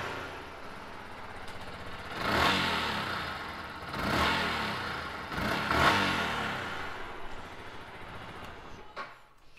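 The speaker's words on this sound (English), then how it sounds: "we'll give it a quick start up for you" A 2018 Yamaha MT125 ABS motorcycle with 801 miles runs steadily nearby, its engine blipped in three revs that swell and fade at even intervals before settling back to idle.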